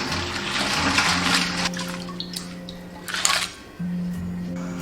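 Running water rinses cleaned crayfish in a kitchen, a steady splashing stream with clinks and a brief pause before the flow resumes, close and moderately loud.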